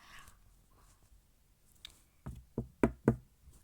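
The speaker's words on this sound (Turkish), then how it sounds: "Aha kapı çaldı bekleyin açayım." Four firm knocks on a door, close and fairly loud, come in a quick uneven cluster after a quiet stretch, with only faint room noise before them.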